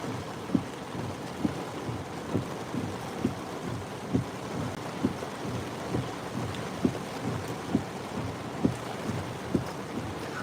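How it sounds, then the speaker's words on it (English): Heavy, steady rain pours down during a tornado warning, with repeated low thunder rumbles and thumps every second or so throughout, loud and close, with no talking. "I'm in heavy rain."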